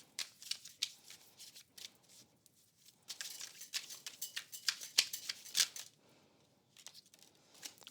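Tarot cards being shuffled by hand in quick, crisp bursts of riffling and sliding, close and fairly quiet, with short pauses between handfuls.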